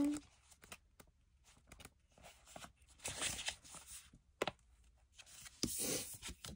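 Oracle cards are shuffled and flicked through by hand while searching for one numbered card, giving soft papery riffles and slides in short bursts near the microphone, with quiet gaps between them.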